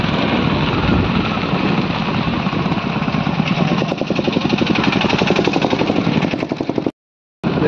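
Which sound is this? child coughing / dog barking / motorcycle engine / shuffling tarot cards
motorcycle engine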